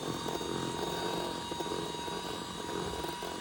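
An electric mixer beats butter and sugar at medium speed for chocolate cookies, giving a steady, continuous motor whir that holds at one level throughout with no talking.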